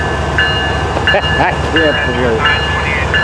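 FEC 103 locomotive pulling away, a loud, close rumble of the moving train with tonal whistle-like squeals and rising engine notes, while a person speaks over it.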